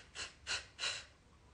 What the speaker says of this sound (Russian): Сомкнутые губы, вдох через нос, выдох через рот,